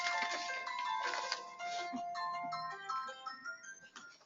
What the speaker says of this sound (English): I just had a mobile phone go off there.